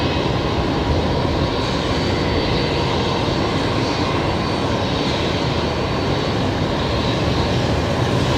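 An airplane at Brisbane Airport roars continuously with loud, broadband engine noise, close and steady throughout with no pauses.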